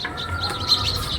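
House sparrows in a lemon tree chirp steadily in a busy, overlapping chorus, moderately close, with no talking.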